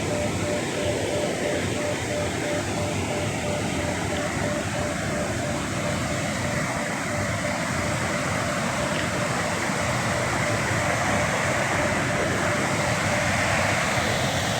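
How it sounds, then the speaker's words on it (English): Waterfall beside a bridge at night, a loud constant roaring wash of falling water that fills the scene without a break, with faint voices buried under it. "Right by the waterfall."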